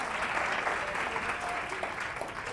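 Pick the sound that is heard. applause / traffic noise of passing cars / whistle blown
applause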